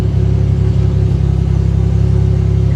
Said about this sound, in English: Let me turn the car on so you can hear it.